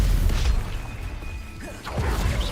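A Bombarda spell explosion in the video game Hogwarts Legacy: a loud booming blast with crashing debris and a whooshing burst, amid ongoing combat effects.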